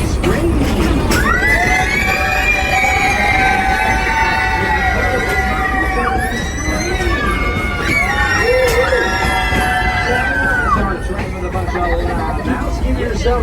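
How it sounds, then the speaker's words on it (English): Riders on the Frisco train at Silver Dollar City scream together inside a tunnel, a dense, loud wall of shrieking voices sustained for several seconds before trailing off. "Cars 1 and 2, go ahead and scream."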